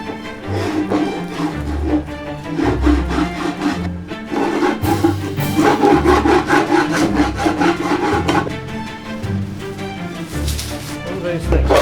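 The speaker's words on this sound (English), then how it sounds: "This is like a ye olde rasp. I think it's pretty blunt actually" An old, blunt rasp scrubs over scrap wood in repeated rough strokes, close and fairly loud, with a speaking voice partly overlapping the rasping.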